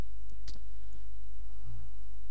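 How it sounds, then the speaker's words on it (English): Mouse clicks on an image in a website editor while building a news page: a few sharp, close, dry taps in quick succession, isolated against a low steady hum. "We can try clicking on the image and resizing it in here."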